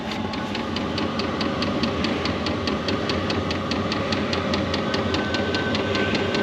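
A diesel heater running in a truck camper in deep cold, a steady mechanical hum with a fast, even ticking pulse repeating throughout, continuous and close with no talk.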